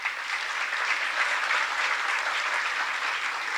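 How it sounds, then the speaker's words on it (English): A college convocation audience applauds in a steady, even wash of clapping that holds at a constant level throughout. "Won't you join me in applauding them as well?"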